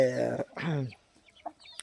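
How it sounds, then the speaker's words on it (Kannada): Chickens of a native breed, kept alongside a fighter breed on a farm, cluck and call in two loud close bursts followed by fainter scattered clucks. "ಈಗ ಸದ್ಯ ಮಟ್ಟಿಗೆ ನಮ್ಮ ಹತ್ರ ಇಷ್ಟು ಕೋಳಿ ಇದ್ದಾವೆ"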